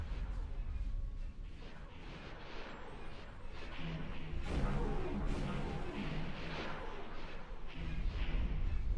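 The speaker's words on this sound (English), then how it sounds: "The dock is now exploding." A space dock blows apart in the video game X4, with rumbling booms and crackling blasts rolling over one another in a dense, continuous barrage and no voices.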